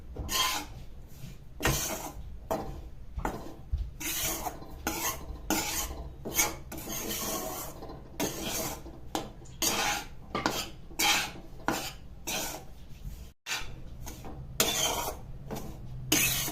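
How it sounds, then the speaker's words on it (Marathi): Flour roasting in a pan is stirred continuously with a spoon, making rhythmic scraping and rasping strokes against the pan bottom, close and regular throughout with no talk. "सारखं हलवत राहायचंय नाहीतर मग खाली चिटकून ते करपण्याची शक्यता असते"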